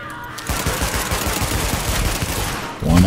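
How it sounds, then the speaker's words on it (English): Rapid automatic gunfire in The Division, a loud continuous stream of shots lasting a few seconds before a sudden heavier blast at the end. "I'm gonna shoot that thing again."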